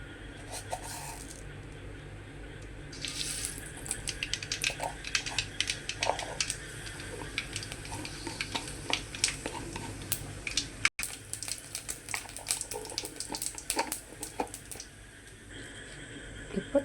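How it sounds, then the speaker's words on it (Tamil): Spices tempering in hot oil in a kadai on a stove, giving a continuous crackling sizzle with scattered sharp pops and spatters, close and steady, briefly cut near the end. "இப்போ தாளிக்கலாம்."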